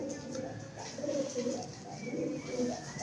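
Pigeons coo softly in low, rounded repeated calls, a steady murmur of several birds close by with no talking.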